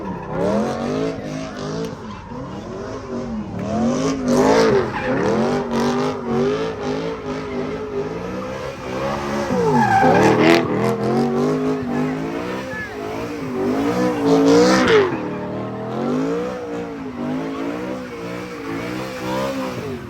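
A car spinning its tires at a car meet, with loud wavering tire squeals and a revving engine rising and falling in long surges, voices talking underneath.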